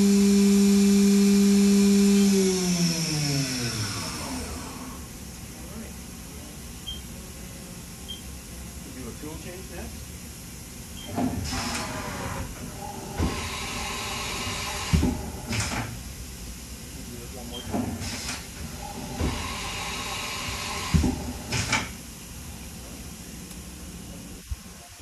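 A 2005 Haas VF-3SS super-speed vertical machining center with its spindle spinning up toward 12,000 RPM, a falling tone settling into a steady high whine under room noise, with intermittent bangs and handling sounds later.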